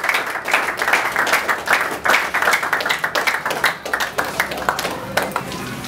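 An audience at a foundation event applauds Papa Blaise with steady, dense clapping for about six seconds, loud and close, with sharp individual claps standing out in the mass.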